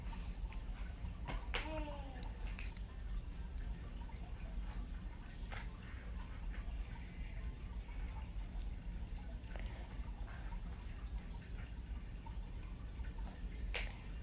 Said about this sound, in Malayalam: അതിലേക്ക് 2 കപ്പ് വെള്ളം ഒഴിക്കുകയാണ്.